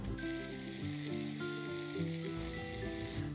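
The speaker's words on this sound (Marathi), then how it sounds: "कांदा पण आपण व्यवस्थित तेलात जिथपर्यंत गोल्डन ब्राउन होणार नाही तिथपर्यंत परतून घ्यायचा" Salted onion sautéing in oil until golden brown for a kachori filling, a continuous close sizzle with occasional stirring clatter, steady and unbroken, with no talking.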